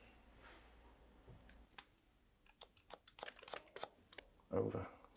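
Scissors snip through a hair fringe in a quick run of sharp, close clicks over a few seconds, fairly quiet, followed by a brief voice.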